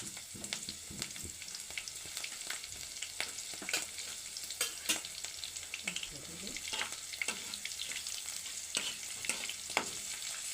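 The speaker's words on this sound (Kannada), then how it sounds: "ಸ್ವಲ್ಪ ಖಾರ ಬಿಡ್ಲಿ ಅಂತೇಳಿ ಫಸ್ಟ್ ಮೆಣಸಿನ್ಕಾಯಿ ಹಾಕೋತೀನಿ ಅದಕ್ಕೆ" Green chillies fry in hot oil in a pan for a paneer dish, giving a steady close sizzle with scattered crackles and pops and light stirring throughout.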